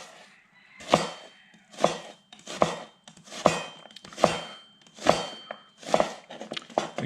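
A kitchen knife slices through a pre-peeled onion on a cutting board, giving eight evenly spaced, crisp cuts with a sharp chop at each stroke, close up with no talking.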